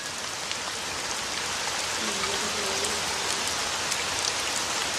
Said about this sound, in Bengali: ব্যালকনিতে দাঁড়িয়ে দাঁড়িয়ে এরকম বৃষ্টি দেখলে কতই না ভালো লাগে।